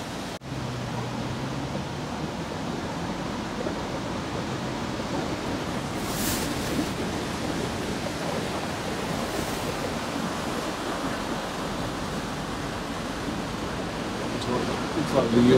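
Sea surf rolling onto the beach at Saltburn, with a surfer out trying to catch a wave; a steady, broad wash of breaking waves fills the whole stretch, mixed with some wind noise.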